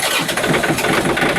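A car engine cranks and catches in a rough, sputtering cold start at -18°C without the block heater, loud and close, with an uneven churning rhythm and no rise to a higher idle.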